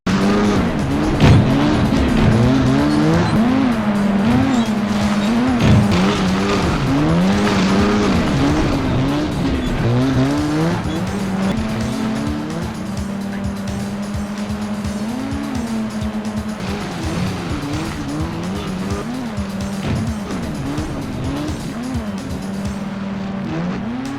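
Snowmobile engines race in a 1990s console racing game, a continuous loud, whining motor drone that rises and falls in pitch as the machines accelerate and turn, with layered engine tones throughout.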